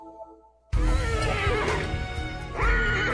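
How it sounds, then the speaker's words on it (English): A horse rearing with a jockey on its back in the TV show Wildfire lets out a loud, shrill, wavering neigh that starts abruptly after a quiet moment and rises again near the end. "there's this horse and the jockey's on him and the horse is rearing."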